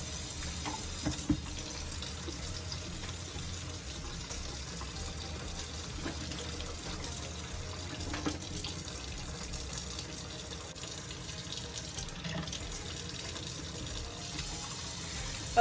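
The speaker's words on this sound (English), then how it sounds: "Room temperature water, and give her a good rinse and water her in." Room-temperature tap water runs steadily into a sink while a spider plant is rinsed and watered, a soft continuous splash heard close but faint, with a few small knocks and no speech.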